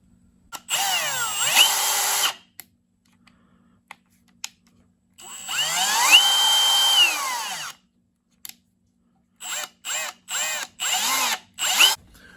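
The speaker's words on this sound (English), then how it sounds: "Now it's time to drill, baby." A Milwaukee 1/2-inch hammer drill runs in three loud bursts: a long spin with speed changes, a second sustained run, then a string of short trigger pulses. No one speaks over it.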